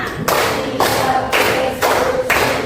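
Five rhythmic rounds of group clapping from a classroom of students, each burst dense and abrupt, evenly spaced and loud, with no talking over them.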